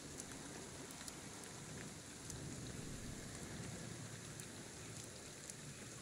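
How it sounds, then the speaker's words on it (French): Steady rain in the video game Ghostwire: Tokyo pours down in an even, continuous hiss with scattered drop taps, quiet and unbroken for the whole stretch, with no voices. "il pleut"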